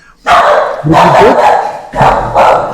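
A single dog barks loudly and close, three heavy, drawn-out barks in a row with brief pauses between, heard alone without talk.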